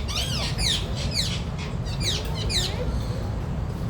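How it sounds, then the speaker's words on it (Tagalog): A parrot at a wildlife park in Quezon City, Philippines, gives a run of sharp, repeated chirps and squawks over steady outdoor crowd noise, with people chatting nearby. "So, parrot. This is a parrot."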